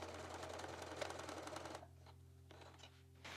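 Sewing machine stitching and then backstitching at the end of a seam on a makeup bag, a close rapid mechanical whirr that cuts off after about two seconds, followed by quieter short bursts of stitching.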